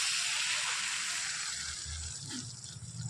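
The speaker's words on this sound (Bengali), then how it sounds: "এখান থেকে এবার 1 হাতা পরিমাণে নিয়ে আমি তেলের উপরে দিয়ে দেব" Rice and lentil batter hits hot oil with a steady, close, bright sizzle and hiss that holds for a few seconds, then eases slightly near the end.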